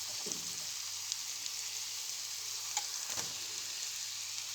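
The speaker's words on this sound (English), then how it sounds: "while we're waiting for the mushrooms, the pancetta and onions to cook" Mushrooms frying in a pan with pancetta and onions give a steady, soft sizzle with occasional small pops and crackles, heard close and on their own.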